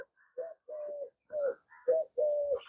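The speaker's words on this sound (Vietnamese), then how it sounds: "Có con chim này hay." Bird calling, likely a dove or pigeon, a series of short mellow cooing notes in an uneven rhythm, close and clear, with no voices.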